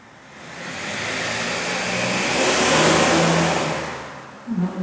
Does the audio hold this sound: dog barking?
no